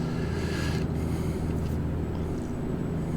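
Cummins NTC Big Cam 350 diesel truck engine in American Truck Simulator, holding around 1500 rpm at close to 40 mph; a steady, low droning rumble with a brief airy hiss at the start.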